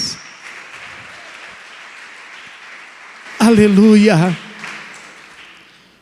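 A church congregation claps steadily through the whole stretch, and a single voice shouts out loudly above the applause partway through.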